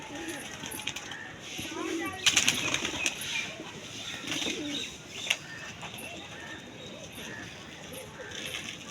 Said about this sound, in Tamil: இப்போ தான் வந்து புறாவுக்கு இறை போட்டோம்